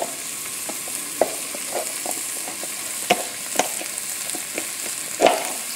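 Minced garlic in olive oil sizzles in a pot for black beans with a smoked ham bone, a soft steady fry broken by scattered clicks and spoon taps, close and without talk.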